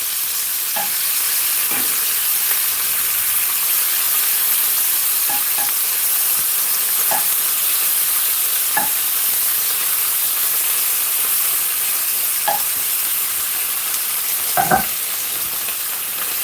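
Bacon frying in a cast iron pan gives a steady, loud sizzle and hiss throughout, with scattered small pops and clicks and no talking.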